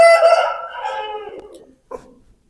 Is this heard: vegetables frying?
no